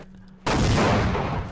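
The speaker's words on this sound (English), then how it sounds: "Oh my god, that's a gunshot." A gunshot in a UHC video game erupts after a brief quiet moment, a loud, sudden blast whose rumbling echo sustains and slowly fades.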